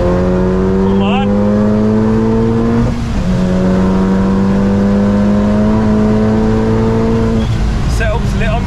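A race car engine on track revs hard and accelerates in long rising pulls, drops briefly as it shifts, then climbs again, loud and close throughout while a voice talks over it.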